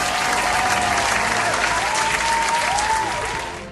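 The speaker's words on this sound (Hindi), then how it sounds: "जोरदार तालियां" Strong, sustained applause from a studio audience greeting a special guest on a gospel singing show, a full wash of clapping with a few whistles, fading slightly at the end.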